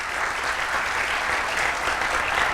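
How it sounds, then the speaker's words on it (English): Dense, steady applause from an audience at the Schulich HIMP Awards Gala fills a hall for the alumni helpers, continuous clapping with no voices standing out. "I want to extend a huge round of applause to our alumni who've helped with this event this evening."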